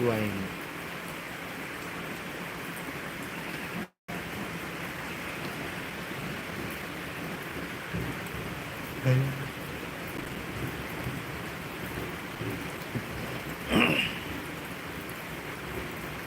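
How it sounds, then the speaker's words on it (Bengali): Heavy rain pouring down in Japan, a dense, steady roar of falling water spread evenly across a long stretch, with a few louder splashes or knocks and brief indistinct voices now and then. "বৃষ্টি হচ্ছে অঝরে"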